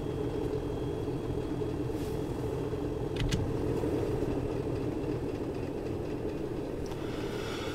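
Class 37/5 diesel locomotive in Train Sim World 2 on the Tees Valley Line, throttle wide open: a steady, dense low engine drone and rumble, constant and loud throughout with a few faint clicks, no voices.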